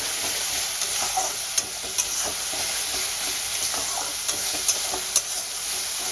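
Ginger, garlic and green chili paste frying with onions in a pan for a rui fish curry, giving a steady close hiss of sizzling oil with occasional stirring clicks, no talk.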